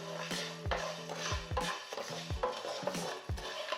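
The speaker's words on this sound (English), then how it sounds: "Keep stirring it all the time until it turns into a nice golden yellow color." A spoon or spatula scrapes and stirs rice powder with kaffir lime and lemongrass as it toasts in a pan, making repeated rhythmic scraping strokes and soft knocks against the pan, close and fairly quiet.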